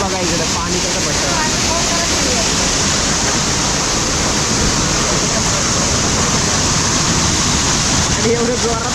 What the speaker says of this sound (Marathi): आणि हे बघा इकडे पाणी कसं पडतं.